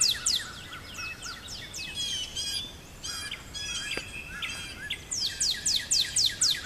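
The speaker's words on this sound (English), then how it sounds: "Main reason I'm out here actually is to" Several birds sing nearby in bright, repeated chirping phrases and trills, with short pauses between bursts over a quiet outdoor background.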